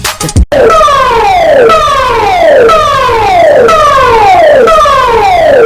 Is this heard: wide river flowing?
no